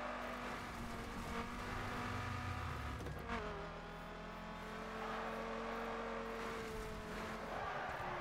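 In the video game The Crew, a car's engine drones steadily while drifting, its pitch shifting as it slides, with tire noise under it. The car is driven with a G27 wheel.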